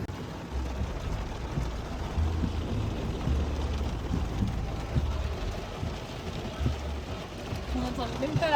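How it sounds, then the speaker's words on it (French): Heavy rain pours down steadily in Anglet, a dense continuous hiss with low rumbling underneath, moderately loud and unbroken throughout. "On n'entend même pas la radio tellement il pleut."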